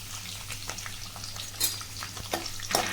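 Onions frying in about four to five tablespoons of hot oil with curry leaves for a chicken masala gravy, a steady close sizzle broken by a few sharper crackles and brief stirring scrapes, with no talk.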